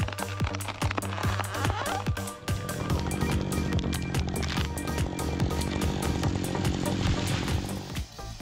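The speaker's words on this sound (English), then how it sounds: "I was really impressed with their excellent tree cutting ability with this style MMS460 chainsaw." An MMS460 chainsaw cuts a tree on steep, difficult terrain, its engine snarling loud and close, shifting pitch as the cut begins and bogging and revving in uneven bursts.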